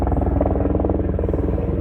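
A helicopter passes overhead outdoors, its low rotor throb pulsing steadily and loud throughout, with a continuous rumbling drone and no competing sounds.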